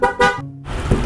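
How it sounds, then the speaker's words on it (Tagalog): Two quick, loud motorcycle horn honks sound close by, followed by a low engine rumble. "Subukan natin yung Busina."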